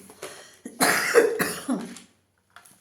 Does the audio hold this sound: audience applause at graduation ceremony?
no